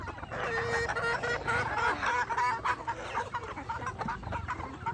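Backyard chickens cluck and chatter in a busy flock while being fed coconut pulp, a loud, continuous babble of overlapping calls close to the microphone.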